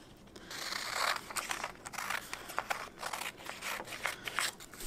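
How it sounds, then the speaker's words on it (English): Scissors cut a rectangular strip off a sheet of origami paper, a close series of crisp snips and rustling paper sounds with no talking. "we're going to cut off this rectangle side piece there"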